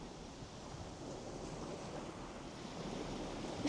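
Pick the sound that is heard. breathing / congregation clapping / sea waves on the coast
sea waves on the coast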